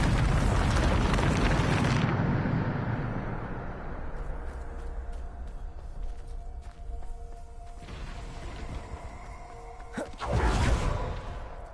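Bombarda blasting spell from Hogwarts Legacy: a loud, broad explosive burst opens, decays into rumbling debris and game ambience, then a second sharp blast erupts near the end.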